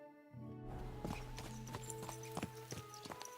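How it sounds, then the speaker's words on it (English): Horse hooves clip-clop in an uneven trotting rhythm over a sustained musical drone in the video game Kingdom Come: Deliverance 2, the hoofbeats sharp and fairly close. "Let's really spur these horses on"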